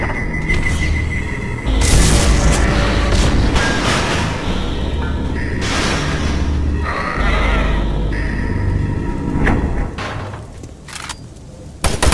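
Loud booming rocket explosions fired by an enemy in the video game Doom 3, heavy blasts over a dense, rumbling game soundscape with growls and clanks.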